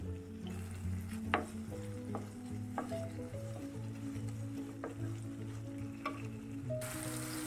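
Tomatoes and garlic paste sizzle in a pan for a phool makhana curry, a steady close frying hiss with occasional sharp scrapes and stirring clicks of a spoon against the pan.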